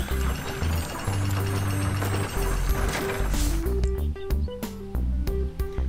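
Crafting machine gears in ArcheAge run with ratcheting clicks, mechanical whirring and steady tonal hums, the clatter growing sharper and more broken toward the end, close and loud with no talking.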